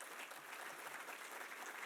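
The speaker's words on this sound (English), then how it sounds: "Give them one more round of applause" Faint, dense applause from a gala dinner audience honoring sponsors at a 25th anniversary event, a continuous wash of distant clapping with no voices.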